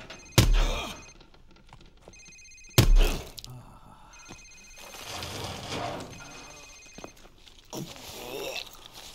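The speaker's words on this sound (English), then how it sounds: "Sir, it's his cell phone." A cell phone rings in a video game, two sharp loud ring bursts a couple of seconds apart, followed by footsteps and shuffling movement.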